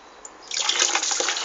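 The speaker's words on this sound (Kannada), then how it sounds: "ನೀರು ಹಾಕಿ ಅಮ್ಮ ಗಿಡಕ್ಕೆ" Water poured onto garden plants, a bright splashing pour that starts suddenly partway through after near silence and continues steadily close by.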